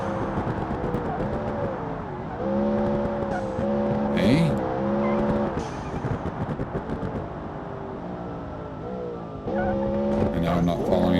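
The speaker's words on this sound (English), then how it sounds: "And it revs so high. And with the 8-speed transmission and automatic, it's shifting fast." Supercar engine in BeamNG racing game revs high and shifts quickly through an 8-speed automatic, pitch climbing and dropping with each gearchange, tire squeal mixed in, loud and continuous under occasional talk.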